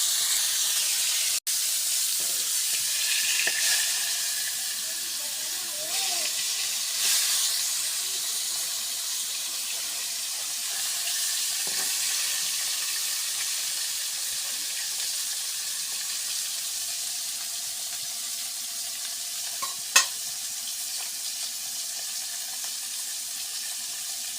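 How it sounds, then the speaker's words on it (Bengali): Fish frying in a pan in a village kitchen gives a steady, close sizzling hiss that runs unbroken throughout, with a faint clink near the end and no voices. "মাছ ভাজা শেষ নামিয়ে ফেলাবো"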